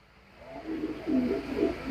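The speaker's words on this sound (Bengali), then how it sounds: "ভিডিওর শুরুতেই আমার হাতে একটা মিলি নর কবুতর আছে" A male racer pigeon held in the hand gives a short series of three or four low, throaty coo pulses, close and clear against a quiet background.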